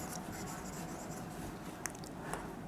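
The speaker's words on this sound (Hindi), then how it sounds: "तो मैं लिख देता हूं टेम्पल" Chalk or marker scratches and rubs on a board in a steady, faint stroke pattern, with a couple of sharper taps, close by and without talk.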